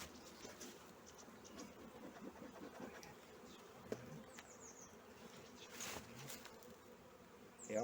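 Honeybees buzzing around an opened hive during a pre-spring colony inspection, a faint, steady drone with occasional closer passes and light scraping and handling noises.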